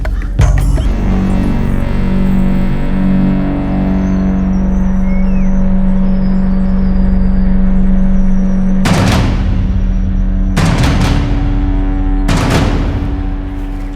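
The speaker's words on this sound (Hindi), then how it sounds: "सर गाड़ी आ गई।" A vehicle rolls up with a steady low engine drone on a tense stakeout, then three sharp loud bangs like doors slamming or shots ring out near the end.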